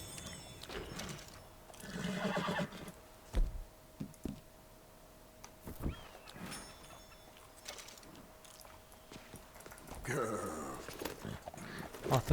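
A horse in the video game Red Dead Redemption 2 neighs amid hoof clops, knocks and other game noises, with a steady tone droning beneath and people talking over parts of the scene.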